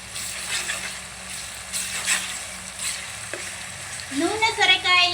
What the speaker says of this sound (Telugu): నూనెలో బాగా వేగుతుంది